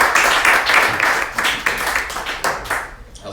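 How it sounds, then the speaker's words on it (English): A crowd at an indoor talk claps loudly and continuously, the applause tapering off and stopping near the end. "Another round of applause for that"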